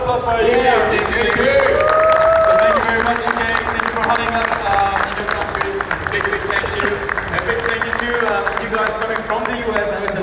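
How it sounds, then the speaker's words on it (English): Sustained audience applause with scattered cheering at a comic convention panel, loud and dense throughout, with a tonal voice or music line audible early on. "A round of applause for you."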